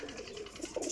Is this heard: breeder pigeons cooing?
yes